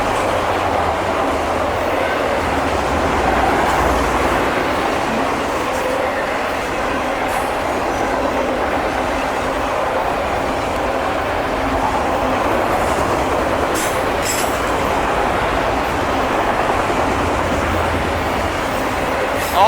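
A loaded CSX auto rack freight train with a mid-train DPU passes close by in Germantown, a steady, loud rumble of cars and wheels on rails for the whole stretch.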